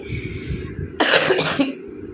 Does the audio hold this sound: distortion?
no